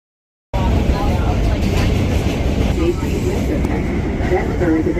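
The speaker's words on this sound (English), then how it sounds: "Bye bye F train going back to Manhattan, Queens." A New York subway F train pulls out of the station, a loud, steady rumble and rattle that begins abruptly after a brief silence and continues close by, with voices faintly in the mix.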